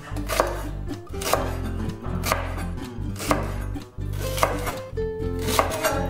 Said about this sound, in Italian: infine taglio due gambi di sedano